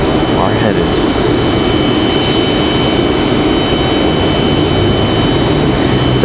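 A Delta Boeing 737-900ER jet roars steadily on the runway at Raleigh-Durham International Airport, a loud continuous engine rush filling the whole stretch as it heads to the runway end.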